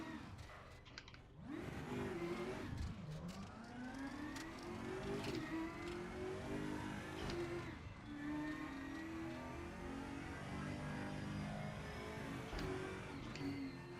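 Race car engine in Raceroom sim racing, revving hard with rising and falling pitch sweeps as gears change, loud and continuous with no talk.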